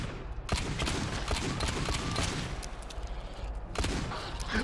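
Dense, sustained gunfire in the co-op shooter GTFO, a continuous loud barrage of rapid shots filling the whole moment with no clear gaps.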